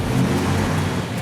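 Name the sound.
1958 Plymouth Fury 350 cubic inch engine revving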